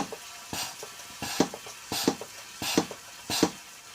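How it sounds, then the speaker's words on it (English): An oil extractor sucks the last oil out of a Volkswagen Beetle TDI engine's pan, giving a series of sharp gurgling, slurping bursts at irregular intervals over a low steady hiss, close by. "That sound is the sound of all the oil being sucked up."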